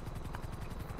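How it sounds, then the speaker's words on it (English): Steady rhythmic thudding of a helicopter's rotor blades flying overhead in a video game, a continuous low chop with no voices. "No, that's our helicopter"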